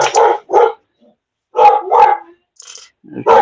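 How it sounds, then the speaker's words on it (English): Several dogs bark close and loud in a few short bursts, with gaps of quiet between them. "There's my dogs being a bunch of bastards."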